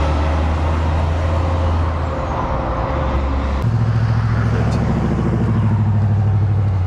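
Road traffic streaming past at close range, a continuous engine and tyre roar with heavier vehicles rumbling low and one passing partway through, no pause in the flow.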